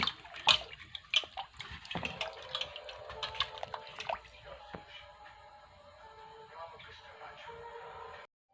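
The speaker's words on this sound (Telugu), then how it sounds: "ఫస్ట్ ఈ బీట్రూట్లన్నీ నీళ్ళల్లో వేసుకొని బాగా" Beetroots are washed in water for beetroot halwa, with close splashing and dripping as they are rubbed and moved, fading to a softer steady wash toward the end.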